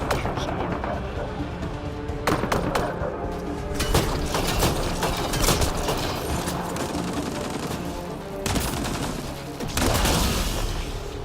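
Sustained gunfire in Mass Effect Andromeda, dense rapid bursts of shots and booms rolling continuously at high volume, with brief lulls and renewed volleys.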